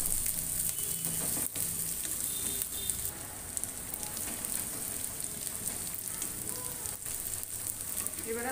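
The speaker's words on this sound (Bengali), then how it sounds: "লাল করে ভেজে দেবো।" Green chilies fry in hot oil in a pan, giving a steady close crackling hiss with scattered pops and no talk.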